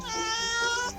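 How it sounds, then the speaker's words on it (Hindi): A cat inside a godown gives a single drawn-out meow, near and clear, rising and falling over about a second. "तो बिल्ली की आवाज कहां से है?"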